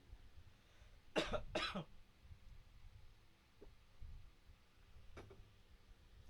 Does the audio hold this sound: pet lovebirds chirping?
no